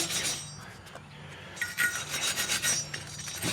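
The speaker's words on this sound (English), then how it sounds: "dandy Harbor Freight wire brush and just get in there best you can" A wire brush rasps back and forth over a rusty brake hub, close and scratchy in repeated strokes with brief pauses between, and no talk.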